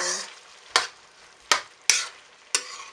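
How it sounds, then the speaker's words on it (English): Pinakbet vegetables being stirred through oil and sauce in a frying pan: a soft background sizzle broken by four sharp scraping strokes of the spatula, evenly spaced and close, with no talking. "Give that a good mix and let the oil and sauce coat all the vegetables."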